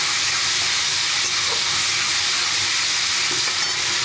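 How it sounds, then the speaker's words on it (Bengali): Mashed prawns ground with garlic and green chilli fry in a pan, giving a steady, close, loud sizzle with continuous broadband hiss and no talking throughout. "চিংড়ি মাছটা একটু ভাজা ভাজা হয়ে গেলে আমি কাঁচকলার খোসা বাটাগুলোকে দিয়ে দেবো এর মধ্যে।"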